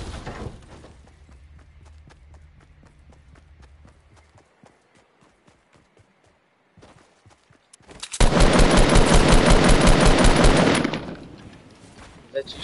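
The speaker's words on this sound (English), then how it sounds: "Is that you shooting me?" Gunfire in the video game Fortnite Battle Royale: sparse, rapid clicking shots at first, then a loud, dense burst of automatic fire lasting several seconds before it cuts off.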